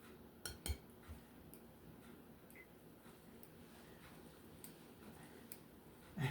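Utensils clinking against a bowl or dishes while homemade Grape Nuts cereal ingredients are mixed together, with a few brief clatters near the start and a louder knock at the end over a quiet background.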